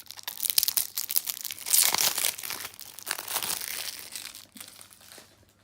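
Plastic wrapping on a second-edition Alice tarot deck is pulled open and crinkled, giving a steady close run of crackling and crumpling for several seconds that fades toward the end, with no talking.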